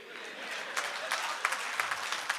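An audience claps at a Holi celebration poetry gathering in Ghaziabad: dense, sustained applause from a full hall with sharper individual claps standing out, and faint voices mixed in.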